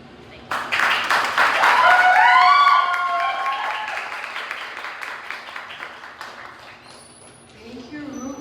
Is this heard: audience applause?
yes